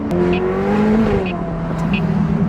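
A loud 850 HP Ferrari F8 Tributo engine drones and rises in pitch, revving steadily as the car accelerates, with a few faint high squeaks on top.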